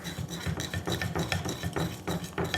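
Pancake batter whisked in a bowl with a Dutch mixer whisk, giving a steady, close scraping and clinking churn with quick repeated strokes throughout, loud and alone.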